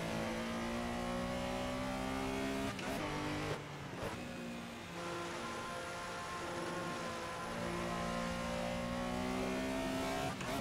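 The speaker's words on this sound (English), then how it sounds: "This is some of my favorite downshifting sounds in all of sim racing" Porsche Carrera RSR 3.0 racing around Barcelona in Assetto Corsa, its engine droning loudly and steadily with rising and falling revs, punctuated by sharp blips and crackles as it downshifts mid-run; no talking.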